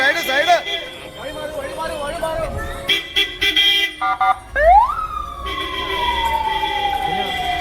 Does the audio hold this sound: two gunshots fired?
no